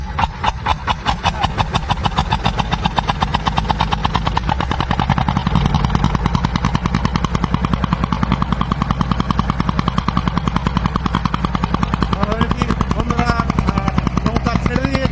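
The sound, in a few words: bhutbhuti country boat engine being started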